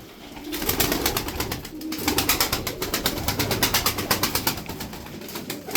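Turkish tumbler pigeons coo in a close, continuous rhythmic run of soft throaty pulses. The cooing rises and falls over several seconds, with no voices.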